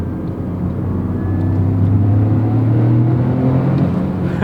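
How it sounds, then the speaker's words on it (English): A 2023 Toyota Corolla Morizo Edition with a turbocharged engine accelerates, its loud, steady drone rising in pitch over a few seconds as the revs climb, with no talking. "The turbo lag and the whoosh and the way it just shoves you in a very gradual way"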